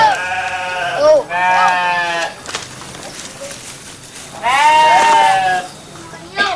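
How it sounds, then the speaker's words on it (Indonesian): Local-breed goats bleat loudly and close by, several long wavering calls with pauses between, over faint background noise. "kambing yang kami pelihara ini adalah jenis kambing lokal"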